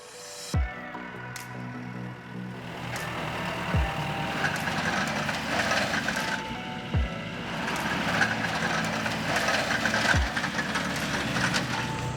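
A farm tractor pulling a seed drill across a Missouri food plot field runs with a steady, rumbling diesel engine drone. Periodic low thumps and mechanical clatter sit over the continuous engine noise, and no one talks.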